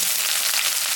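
Onion dropped into hot mustard oil in a kadai, a brief, loud, steady hiss of frying heard up close.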